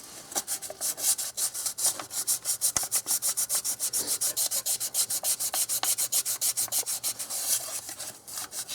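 Rusty pipe on a 2001 Infiniti QX4 cooling system being sanded with 1500 grit sandpaper, a close, steady back-and-forth rasping in rapid even strokes throughout, with no voices.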